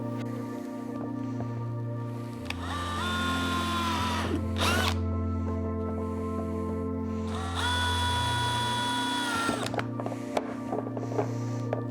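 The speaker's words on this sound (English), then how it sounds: "we'll show you a close-up of drilling those holes next" A power drill drills holes in a plastic panel in two bursts, its motor whining up in pitch as it bites, over a low steady hum.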